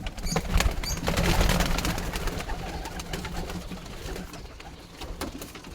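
Baby pigeons coo repeatedly in a low, throaty rhythm, close by, with soft rustling and a few brief higher calls mixed in.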